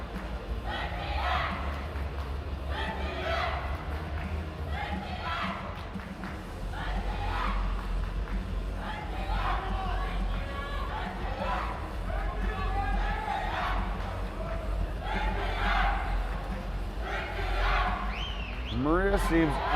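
Crowd at the 2026 EuroArm juniors right-arm arm wrestling finals chanting for Turkey, a dense, continuous roar with rhythmic surges of massed voices filling the hall, loud and sustained throughout.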